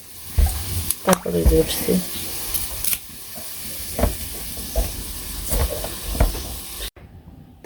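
Papaya frying in a pan, a steady sizzling hiss with stirring clatters and scrapes, while someone speaks briefly over it before it cuts off.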